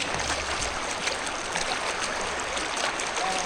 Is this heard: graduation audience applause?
no